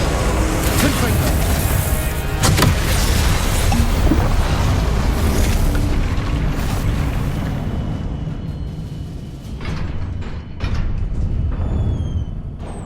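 Confringo, an explosive fire spell cast in Hogwarts Legacy, erupts in a dense, roaring blast with crackling bursts and booming impacts that slowly fade, while a voice talks over the din.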